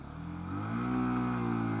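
A UM Renegade Commando motorcycle engine revs up as it pulls away, its steady harmonic drone climbing in pitch and loudness over the first second, then holding at high revs, close and with no talk.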